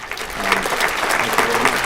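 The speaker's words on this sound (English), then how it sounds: "if you could just join me in a round of applause" Round of applause from the audience at a school board meeting, dense steady clapping from many people filling the room at close range.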